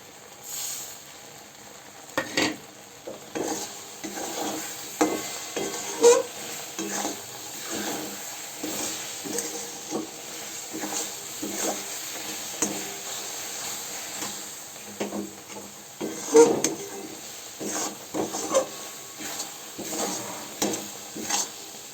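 Fried spice mix is stirred into a sweet-sour jujube (kul) pickle in a pan, making repeated rhythmic scraping stirs with a soft sizzling hiss underneath, close and steady throughout.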